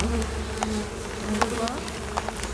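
A honeybee colony in a hive at the end of wintering gives off a dense, steady buzzing hum up close, with occasional sharper buzzes of individual bees passing near.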